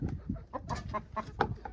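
A rooster clucks in a quick series of short, close calls at a goat livestock market, with busy market noise underneath.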